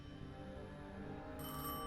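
A telephone rings for a long-distance call: a steady, sustained ringing tone that holds unbroken and fairly loud throughout, with no one speaking.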